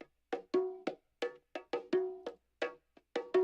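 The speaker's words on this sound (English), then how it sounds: "And this is what it sounds like using this microphone in front of the bongo" A bongo struck by hand and miked close from the front, in a Latin percussion setting, giving a run of about a dozen dry, sharp hits in an uneven rhythm, some ringing briefly with a pitched tone, loud and alone.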